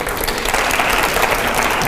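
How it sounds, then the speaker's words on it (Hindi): Loud, dense applause from a crowd at a political speech rally, steady clapping filling the whole moment without a break. "दूसरे सवाल से पहले से जोरदार तालियां हो जाए पहले।"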